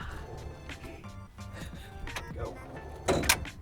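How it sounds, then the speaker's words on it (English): A drawer at a golf performance institute slides open and shut with a smooth rolling rumble, ending in a louder thud as it closes, while people talk nearby. "I love the sounds that the drawers make."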